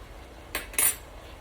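A fork clinks against a plate twice in quick succession while eating parmesan salmon and spinach, two short close metallic taps over quiet room tone.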